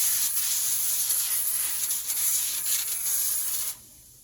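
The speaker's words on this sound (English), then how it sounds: "We're gonna give it a nice little spray," Coconut oil cooking spray hisses steadily from an aerosol can onto a pan for about three and a half seconds, a close, bright spray that cuts off abruptly, with no talking.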